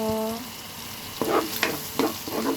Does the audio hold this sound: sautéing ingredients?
yes